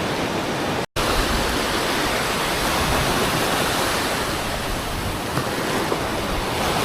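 Broad, steady wash of surf breaking and running up onto a riverbank or shore during a fishing trip in Goa, loud and continuous with a brief dropout near the start and wind across the microphone.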